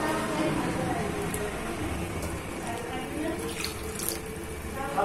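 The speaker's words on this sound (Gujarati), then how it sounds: "અને થોડુંક એક્સ્ટ્રા પાણી પણ એડ કરવું પડશે." Water rushes steadily into a cooking pot on a gas stove turned to full flame while a winter dish is being made, a continuous splashing flow lasting the whole moment with faint talk in the background.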